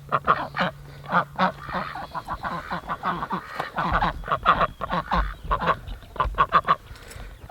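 A flock of farmyard ducks kept alongside chickens in a garden quack and honk repeatedly at close range, loud overlapping calls in irregular bursts throughout.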